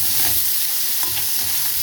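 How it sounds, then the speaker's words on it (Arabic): Garlic and a splash of vinegar sizzle and crackle steadily in a pan while a utensil stirs through them, a close, continuous hiss with soft scraping, no voices. "بعد ما نحط بشويه الخل بنقلب تقليبه خفيفه كده"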